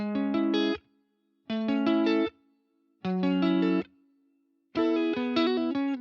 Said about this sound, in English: on my clean guitar I use MXR Dynacomp emulation from Positive Grid and Fender Deluxe from UAD